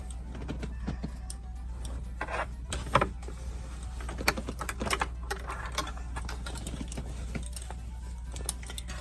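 A sewing machine stitching a simple drawstring bag, with rapid irregular clicking over a low steady motor hum, close by and without talk.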